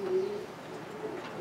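Pigeons cooing inside a pigeon loft, a soft low rolling coo that sustains early on then fades into a steady murmur of faint background birds.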